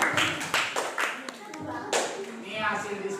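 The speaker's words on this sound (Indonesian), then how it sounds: "Terima kasih tepuk tangan." A group claps hands in a classroom during a group presentation on plant parts, bursts of clapping under and between speech.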